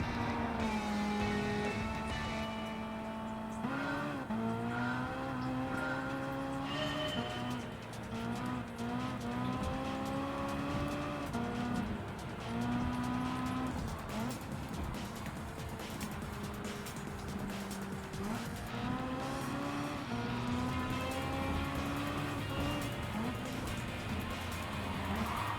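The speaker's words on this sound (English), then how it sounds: "See how our good car performs in this race." Race cars in Gran Turismo 7 howl around a narrow, rain-affected track, engines rising and falling in pitch through repeated gear changes, loud and continuous with occasional tire noise.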